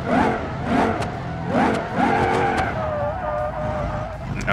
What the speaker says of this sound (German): man kann mit dem Ding jetzt theoretisch driften